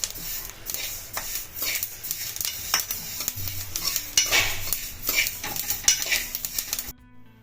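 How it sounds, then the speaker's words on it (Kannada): Sesame seeds dry roast in a pan over a low flame for festival laddoos, giving a dense run of small crackling pops mixed with the scrape and clatter of a stirring utensil, close and busy throughout before stopping abruptly. "ಈ ಥರ ಚಟ್ಪಟ್ ಸೌಂಡ್ ಬರೋವರೆಗೂ ಹುರ್ಕೋಬೇಕು."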